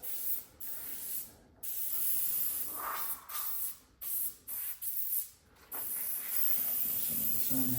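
An airbrush sprays white paint in short repeated bursts of close, loud hissing, broken by brief pauses between passes.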